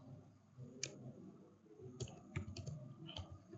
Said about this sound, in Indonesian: lalu kita ketik tabel 1.